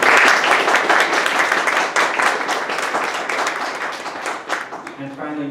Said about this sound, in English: Please could you give him a round of applause?